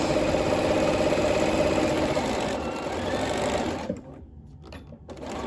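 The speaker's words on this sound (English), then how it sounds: "And we're gonna sew down this edge." A sewing machine runs steadily, stitching down the edge of a pleated cloth face mask with elastic. The close, continuous mechanical hum lasts about four seconds, then stops, leaving quieter handling.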